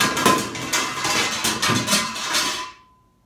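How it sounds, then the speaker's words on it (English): Trim piece being pried and pulled off a Cutlass during vinyl top removal, giving a run of sharp cracking, snapping and scraping clatters for nearly three seconds before stopping abruptly. "There goes the trim piece."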